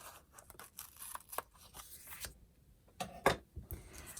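Scissors trimming a strip of washi tape on a journal page, quiet close snips and paper rustles, faint and intimate with no talking.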